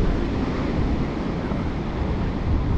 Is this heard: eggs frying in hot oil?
no